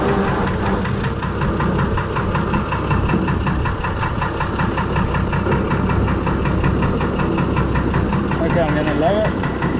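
A Fordson Major tractor fitted with a Perkins straight-six diesel, run in low range, rumbles steadily and loudly with a knocking, uneven idle beat for ten seconds, a voice faintly present.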